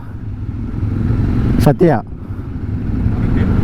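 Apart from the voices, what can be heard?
Royal Enfield Himalayan motorcycle being ridden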